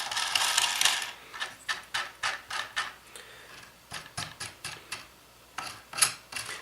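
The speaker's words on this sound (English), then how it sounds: "we can start to tighten the nuts towards the surfaces where they need to clamp" Nuts being tightened on the threaded rods of a Prusa i3 3D printer kit frame, a run of quick ratcheting clicks in short regular bursts, close and fairly loud, with no voices.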